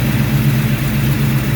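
A 1966 Ford Mustang V8 idles smoothly and steadily up close, a loud, even low rumble with no revving or voices over it.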